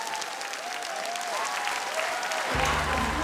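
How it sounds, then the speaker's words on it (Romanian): A live audience at a SuperStar singing-contest semifinal in an open-air arena applauds the jury with steady, sustained clapping and crowd noise, growing slightly louder toward the end as a low hum enters. "hai să aplaudăm jurații"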